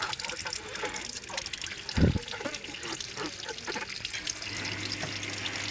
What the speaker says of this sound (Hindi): इसके अंदर भी जो है दूध जमा हुआ होता है, तो अच्छे तरीके से आप लोगों ने यहाँ से भी वॉश करना है, जैसे ये कर रहे देखें।